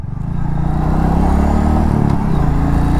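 Royal Enfield Meteor 350 pulling away in first gear, the engine note swelling quickly from a low thump into a loud, steady, close-up drone with a rhythmic single-cylinder pulse.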